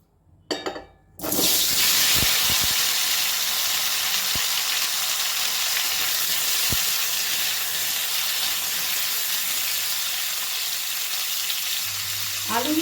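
Boiled potatoes dropped into hot mustard oil in a kadai burst into a loud, steady sizzle and crackle after a brief clatter, frying on continuously up close with no talk.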